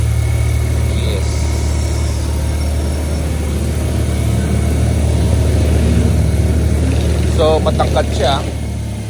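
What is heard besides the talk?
BMW R12GS 1200cc motorcycle engine idling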